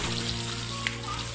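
Fish liver frying in oil in a pan, a steady dense sizzle and crackle that holds evenly throughout the short stretch with no one talking.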